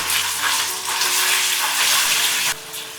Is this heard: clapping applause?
no